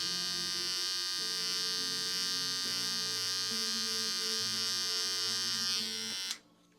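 A hair trimmer buzzing steadily close up as it cuts hair, its pitch shifting in steps before it switches off abruptly near the end.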